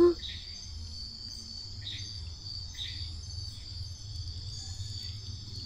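A high, thin whistling call repeats roughly every second at night beneath a bridge, over a steady shrill insect drone and low background rumble, fairly distant.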